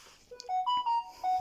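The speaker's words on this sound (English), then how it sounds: "that's my phone going off" A mobile phone ringtone sounds indoors as a short melodic run of bright electronic beeps stepping between notes, fairly close and with no talking over it.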